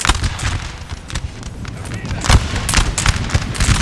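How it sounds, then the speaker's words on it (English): Old Guard infantry firing musket volleys in Napoleon: Total War during a 3v3 battle on Prussian hills, a dense run of crackling shots rolling together over a continuous battle din, with voices talking throughout. "See the old guard have opened fire."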